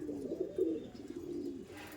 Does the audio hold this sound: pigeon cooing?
yes